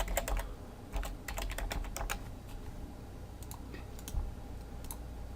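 A folder name is typed on a computer keyboard: quick bursts of crisp key clicks with short pauses between them, close and clear, with no voices.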